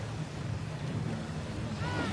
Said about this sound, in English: It's lovely to hear that boat.